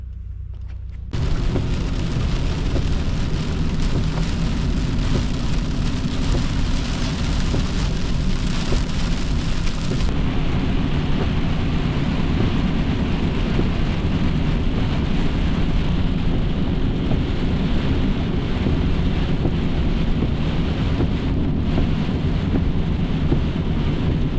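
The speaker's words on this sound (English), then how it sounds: "it started pouring down rain again" Heavy rain pours down during a storm around a cabin, a dense, loud, unbroken hiss of drops striking surfaces that starts abruptly and continues steadily, with some wind rumble in the mix.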